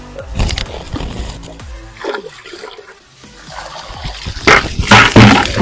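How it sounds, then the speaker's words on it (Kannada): Water poured into a leaking bucket before it is patched with waterproof flex tape, heard as loud gushing and splashing that comes in uneven surges, with a voice speaking close by. "ಫ್ರೆಂಡ್ಸ್, ಇನ್ನೊಂದ್ಸಲ ನೀರು ಹಾಕೋಣ ಬನ್ನಿ."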